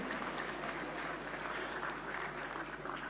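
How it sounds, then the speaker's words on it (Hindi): Sustained applause fills a large auditorium hall at a national government conclave, an even wash of many hands clapping at moderate level for the whole stretch. "जोरदार तालियों से एक बार सभी का स्वागत कीजिए"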